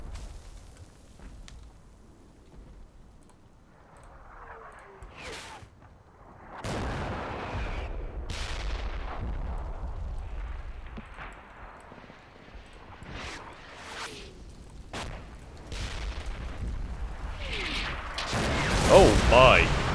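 Artillery rounds landing in the Combat Mission Black Sea war game, a run of sharp booms and rumbling impacts spread over twenty seconds, some distant and some closer, with a heavy burst near the end and faint talk in places.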